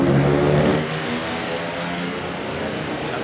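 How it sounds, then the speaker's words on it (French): A supermoto race motorcycle accelerates hard on a road race track at the Trois-Rivières Grand Prix, its engine note loud and rising at first, then holding steady, with race commentary over the top. "Je viens de voir le 41 Reimer accélérer, penché en travers sur une roue"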